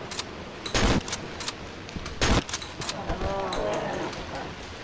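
Gunfire in a co-op video game: two loud bursts of rapid shots stand out above a busy background of game noise and growls, with smaller pops scattered around them.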